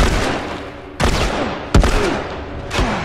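Enemy gunfire in The Last of Us, in a combat area of a capitol building: three or four loud, sharp single gunshots spaced irregularly, each followed by a short ringing echo, with background ambience between shots.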